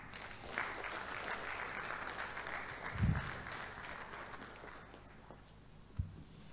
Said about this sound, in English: Another resounding applause for the President, Nigerian Institute of Quantity Surveyors.